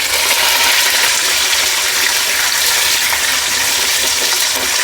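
Vegetables tip into hot oil in a pan for a vegetable sambar with green chillies and onions, giving a loud, dense, steady sizzle and hiss that fills the whole stretch without talk.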